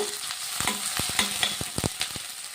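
Onions fry in a pan with ginger-garlic paste, a steady sizzle broken by repeated sharp scrapes and clinks of a spoon stirring against the metal, close and fairly loud with no voices.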